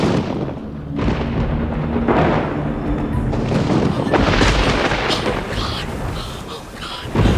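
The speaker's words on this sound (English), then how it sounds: "the thunder." Heavy thunderstorm at night with rain and lightning, deep thunder rumbles rolling on and off across the whole stretch, loud and close, with a hiss of rain beneath and a few faint voices.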